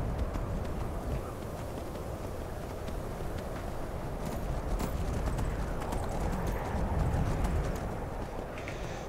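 Horse hooves clip-clop steadily through the Skyrim game world, a continuous rhythmic trot under dense ambient game sound with no talk.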